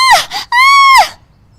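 A woman screams in a kitchen as her sari catches fire at the stove: two short cries, then one long loud sustained wail that trails off, close and alone.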